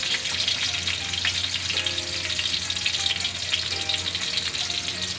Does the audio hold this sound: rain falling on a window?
no